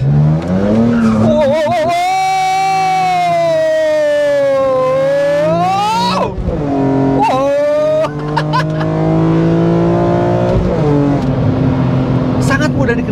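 A BMW M3 E46 CSL with stability control off powers through a corner in second gear, its engine note climbing and dipping in loud, sweeping pitch as the throttle opens, with brief tire squeal close by.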